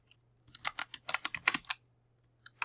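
Fingers tapping a computer keyboard in a quiet room, a quick irregular run of about a dozen crisp clicks, then a pause and two final taps, with a faint low hum underneath and no one talking.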